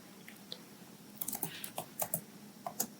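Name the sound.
typing code on a computer keyboard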